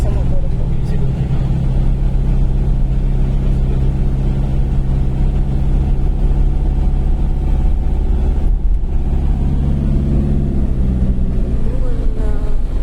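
A motorcycle engine rumbles close by with a deep, steady growl and slight rises in pitch, under faint, indistinct voices.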